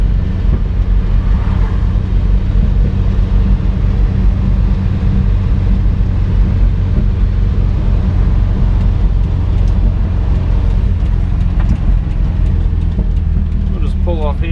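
A Toyota Dyna truck drives with a steady, loud engine drone and road rumble throughout, the driver struggling to find a gear, with faint mechanical clunks near the end.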